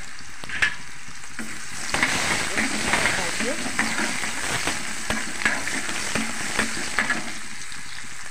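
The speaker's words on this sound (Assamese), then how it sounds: "এই তেলখিনিতে পিঁয়াজখিনি দি দিওঁ" Sliced onions sizzle in hot oil in a pan for a taro-leaf and fish-head curry. A steady close frying hiss runs throughout, punctuated by scattered clinks and scrapes of stirring.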